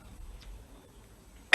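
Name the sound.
cough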